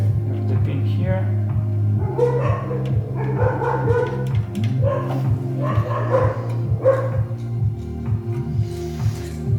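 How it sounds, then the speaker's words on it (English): Dogs bark repeatedly in the background while a cryptocurrency mining machine, an F1 BlackMiner, holds a loud, steady humming drone throughout. "My dogs are barking."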